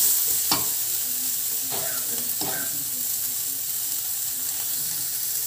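Soybeans, potatoes and paneer fry in a pan with a steady loud sizzle, broken by a few scraping stirs early on, close up and with no talk.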